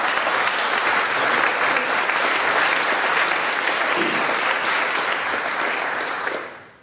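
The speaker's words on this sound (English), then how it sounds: "Give them a big round of applause." Theatre audience at a tech conference gives a big, dense round of applause for speakers walking on stage, loud and sustained for about six seconds before tapering off quickly.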